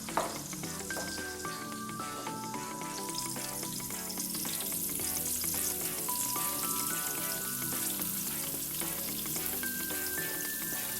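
Thinly sliced onion frying in oil as biryani garnish, a dense continuous sizzle that stays loud and steady throughout, with faint musical tones running over it.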